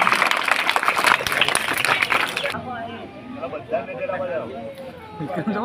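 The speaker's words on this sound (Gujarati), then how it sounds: "ખૂબ સરસ તાળીઓથી વધાવી લઈશું આપણે" Dense, loud applause from a crowd fills the opening seconds, then cuts away to voices and chatter in the room.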